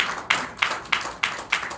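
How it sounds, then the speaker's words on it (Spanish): Audience applause at a panel discussion on journalism and civil society, heard as five sharp, evenly spaced claps about a third of a second apart, fairly quiet and with no one talking. "Aplausos."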